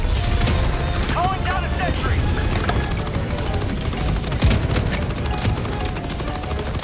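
Dense, continuous gunfire and explosions in a chaotic Helldivers 2 battle, loud and unbroken, with a voice shouting faintly in the mix.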